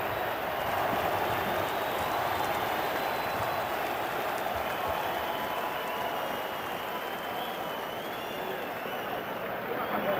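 A large boxing arena crowd chants for Evander Holyfield during his first fight against Mike Tyson, a loud, sustained roar of massed voices filling the hall continuously.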